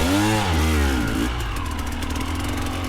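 A KTM dirt bike engine revs and labors while climbing over tree roots on a trail, rising then settling into a steady mid-pitched drone, close and continuous.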